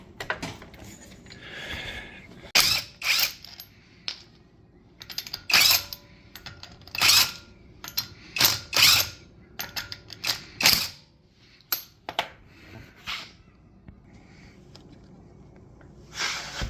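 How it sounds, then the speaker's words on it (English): A car jack lifts a 2014 VW SportWagen in a run of irregular mechanical clicks and ratcheting clacks, bursts of sharp strokes separated by short pauses, close by with no talk. "let's jack it up first, get the wheel off"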